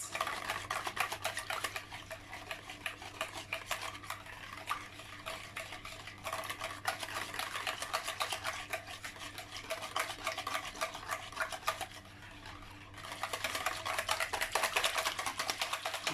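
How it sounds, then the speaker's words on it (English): A spoon stirring milk tart base mixture in a pot, with continuous scraping and light tapping against the pot in a steady rhythm, briefly easing off before resuming. "Mix it well"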